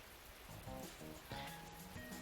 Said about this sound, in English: First time seeing rain in this world.